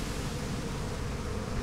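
Steady droning buzz of bees in the Massive Chalice video game, a dense continuous hum that fills the short stretch without any talk.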